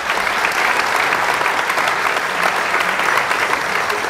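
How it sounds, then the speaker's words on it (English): Audience applause at a VFA Class 20 graduation ceremony in 2018, a loud sustained wash of clapping from a large crowd with no let-up throughout. "Give them a round of applause."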